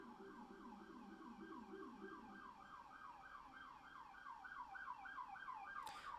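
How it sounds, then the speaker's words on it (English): Emergency vehicle sirens wail outside in a steady rising-and-falling pattern, fairly loud and continuous, with a second lower siren tone fading out partway through. "Sorry about the sirens, guys."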